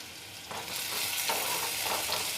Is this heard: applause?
no